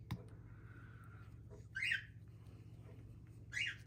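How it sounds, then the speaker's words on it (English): Birds squabble in two short, harsh bursts of chirping over a steady low background hum, with a quiet stretch between the outbursts. "excuse the birds, I don't know what they're fighting over now"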